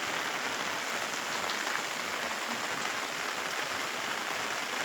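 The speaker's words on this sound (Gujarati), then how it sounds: "સરસ મજાનો વરસાદ પડી રહ્યો છે." Steady early-morning rain falls in Rajpipla, a dense, even hiss of drops hitting surfaces that holds constant throughout with no voices.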